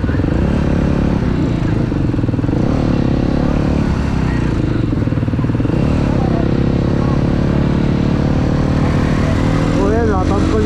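A motorcycle ridden along a road, its engine a loud continuous drone close by for the whole stretch with a rising whine near the end.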